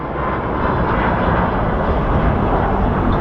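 Airplane at Phoenix Sky Harbor International Airport giving a steady, loud, broadband engine roar that stays constant throughout, with no talking.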